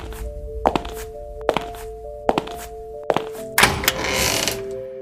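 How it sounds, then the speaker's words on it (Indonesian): Footsteps in a radio drama, set in the Domei news agency office as someone enters a room: four sharp, evenly spaced wooden knocks, close and clear against a quiet hum, followed by a louder scraping rustle. "Di kantor berita Domei, terdengar langkah seseorang memasuki ruangan."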